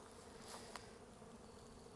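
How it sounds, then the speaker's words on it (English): Honeybees buzz around a busy beehive early in the beekeeping season, a faint, steady hum of many insects with a couple of brief louder passes nearby. "Look at how busy the bees are. They are just crazy busy."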